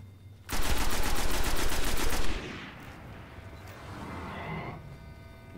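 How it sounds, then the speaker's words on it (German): Shotgun gunfire in the video game Destiny: one loud, close burst of rapid repeated blasts lasting under two seconds, followed by a lower rumbling tail. "Mal mit der Schrotflinte hier auf ihn."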